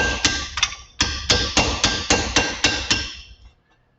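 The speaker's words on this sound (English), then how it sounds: "sometimes what I'll do is I'll take a hammer" A hammer strikes metal while knocking out a wheel bearing seal, about a dozen sharp, ringing blows at a steady, slightly uneven pace, close and loud, then stopping.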